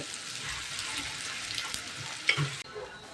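Onions sizzle steadily in a hot pan, a continuous crackling hiss with a brief stir or clatter near the end, while making uppittu.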